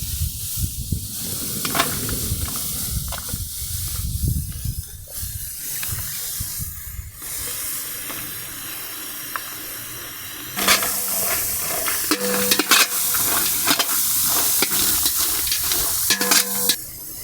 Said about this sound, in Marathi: आता आम्ही लगेच कांदा तळून घेणार आहोत